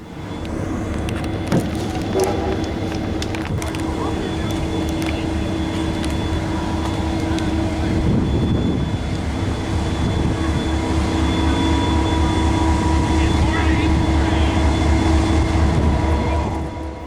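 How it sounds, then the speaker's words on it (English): A-Class and N-Class diesel locomotives idle at a railway workshops open day, a loud steady engine rumble and drone holding throughout with some faint background clatter and no clear talking. "Here is A-Class Locomotive A66 and N-Class Locomotive N473, which are both running"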